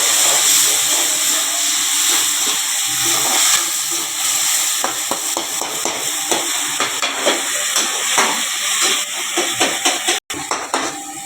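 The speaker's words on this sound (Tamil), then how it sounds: "நம்ம அரைச்சி வச்சுருந்த தக்காளி போட்டுக்கலாம்." Ground tomato hits a pan of sautéed onions and fries with a steady hiss and sizzle, broken by intermittent clinks and scraping of stirring.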